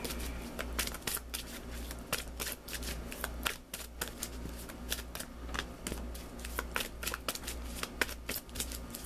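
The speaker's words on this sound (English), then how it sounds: "Let's pull you an additional guidance card" Tarot cards are shuffled continuously by hand, a fast run of soft riffling flicks and slaps, close but quiet against a low steady hum.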